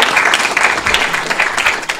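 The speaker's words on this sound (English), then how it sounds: "Round of applause for Joy Zaley." Dense, steady applause fills a city council meeting chamber, a close, loud wash of many hands clapping continuously without a break.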